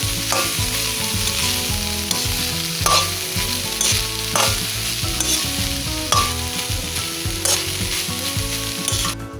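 Vegetable rice is tossed in a hot pan, a continuous loud sizzle broken by regular scraping strokes of the spatula roughly every second and a half, with no voices.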